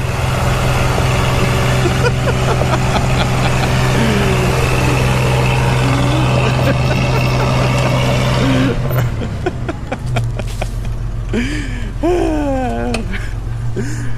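A second-generation Toyota 4Runner engine runs loud and steady throughout, with a droning low rumble that shifts character partway through, and voices talk over it near the end.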